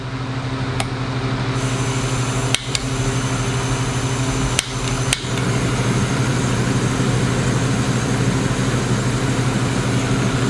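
Jetboil Flash camping stove burner roaring steadily in a fan-driven wind, a constant loud broadband rush with a low hum, broken by a few brief clicks from the igniter or timer.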